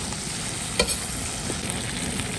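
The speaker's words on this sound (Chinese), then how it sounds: "炒啊！" Twice-cooked pork with onion, chili and bean paste stir-fried in a wok, giving a steady close sizzle with a few scraping stirs of the spatula and no voices.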